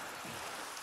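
Steady rainfall in Minecraft, a soft continuous hiss of drops with no distinct thunder, filling the short moment alone at a low, even level.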